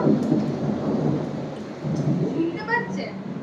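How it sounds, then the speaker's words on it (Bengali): Low rumbling thunder rolls under heavy rain, with a few faint higher sounds near the end. "এই বিদ্যুৎ চমকানো আওয়াজ শুনতে পাচ্ছ তোমরা"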